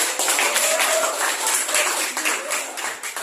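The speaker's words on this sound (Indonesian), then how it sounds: "Beri aplaus kepada kawan kita." Students in a classroom applaud a classmate with a few seconds of brisk, fairly loud clapping from a group, fading slightly toward the end.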